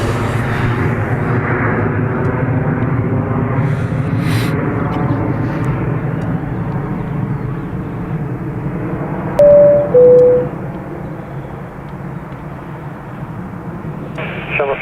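A plane takes off at Dublin Airport with a loud, steady, broadband engine roar that fades slightly over time, and faint radio chatter comes in underneath.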